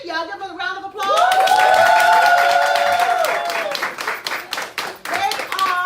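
A church audience gives a round of applause for a pastor and first lady, loud sustained clapping and cheering with a voice speaking over it, then the clapping thins into scattered claps.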